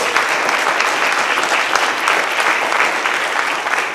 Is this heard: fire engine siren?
no